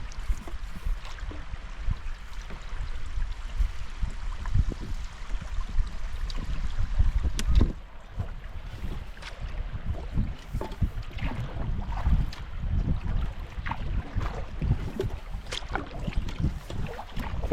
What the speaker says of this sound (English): Fun going through all these rapids.